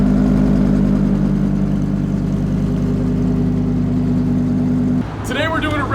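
An Audi R8 engine with a newly fitted exhaust runs loud and steady with a deep, continuous drone for about five seconds, then cuts off abruptly as other sounds take over at the end.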